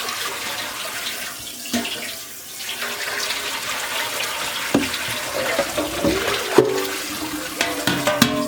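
Water runs steadily from a tap in a shop while something is rinsed off, a continuous splashing rush broken by clunks and knocks from handling, close by with no talking.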